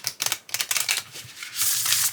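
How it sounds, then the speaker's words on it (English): A thin oracle card deck being shuffled up close, with quick riffling bursts of crisp papery clicks followed by a longer continuous rustle. "they are easy to shuffle, and they do shuffle nicely"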